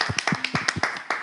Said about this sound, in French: Applaudissez pour moi, s'il vous plaît.